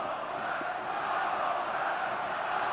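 Football crowd at a Bolton Wanderers vs Wigan Athletic match in February 2006, a broad, sustained roar of cheering voices from a large stadium audience, fairly distant and steady.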